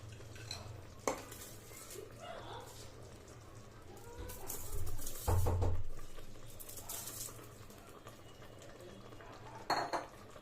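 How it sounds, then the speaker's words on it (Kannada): Washed rice goes into a pot of fried masala for Andhra-style vegetable pulao and gets stirred, with metal spoon clanks and scrapes against the pot, a louder stirring stretch midway, faint birdsong in the background. "ನಾನು ಇವಾಗ ವಾಶ್ ಮಾಡಿಟ್ಟಿರೋ ಅಕ್ಕಿನ ಹಾಕ್ಕೋತಾ ಇದ್ದೀನಿ"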